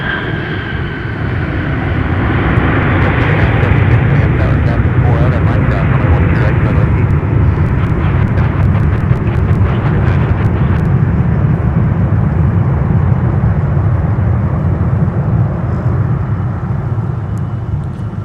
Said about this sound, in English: that arrival just now from Fort Myers, Delta